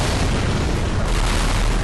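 A massive bomb explosion in a Korean crime drama, a loud, dense, continuous roar of broadband rumble and debris filling the whole stretch with no speech.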